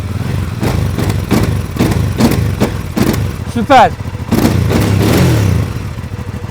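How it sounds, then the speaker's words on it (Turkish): A Barossa GV 650 cruiser motorcycle exhaust revs and burbles in repeated pulses, loud and close, with a voice speaking briefly partway through. "Gerçekten de güzel bir egzoz sesi var."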